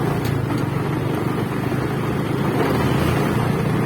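Motorcycle being ridden away after a repair to its rear brake lining, a steady low engine drone with wind rushing across the microphone, continuous and fairly loud with no talking.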